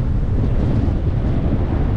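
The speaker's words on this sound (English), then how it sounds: "There's that wind." Strong wind blows outdoors beside a railroad subdivision with patches of snow, a steady loud roar buffeting the microphone throughout with no break.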